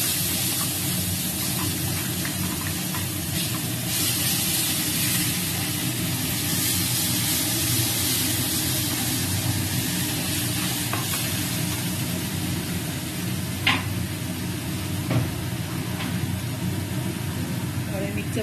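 Spice paste with raw whole cumin sizzling in a frying pan, a steady close hiss of frying with occasional faint stirring scrapes and clicks throughout, while someone talks over it.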